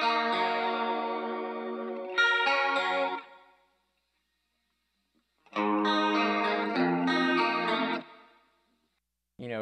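Layered clean electric guitars with chorus effect, two short bright phrases of ringing chords separated by a gap of silence, shimmering and slightly echoing.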